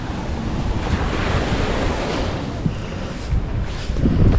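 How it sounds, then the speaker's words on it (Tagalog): Strong wind roars across the microphone by the sea, with surf washing underneath in a steady, rushing blast and occasional louder gusts. "Grabe, lakas pa rin ang hangin"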